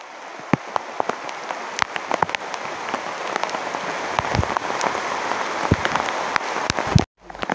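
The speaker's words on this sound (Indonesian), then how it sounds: "Hujan, hujan." Rain falls during a hike up Gunung Terung near Leuwiliang, Bogor, a dense steady hiss of drops with sharp individual pattering hits on nearby surfaces, close and fairly loud, ending in an abrupt cut.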